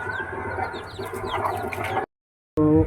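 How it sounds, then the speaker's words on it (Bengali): Several chickens cluck and chatter nearby in a yard of a rural home with a pigeon loft, their busy calls running continuously before a brief silence and another burst. "তো এই দেখো কত এখানে মুরগি আছে, ভাইরাই মনে হচ্ছে মুরগি পোষে।"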